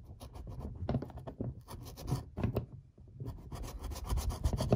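Amsteel rope strands being cut for a soft shackle give a rough, rasping scrape in irregular bursts, close and fairly quiet, with short pauses between strokes.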